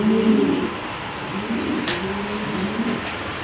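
A racing pigeon of the Carlos line coos in low, soft, repeated rolling phrases close by, with faint background noise and a brief sharp click midway.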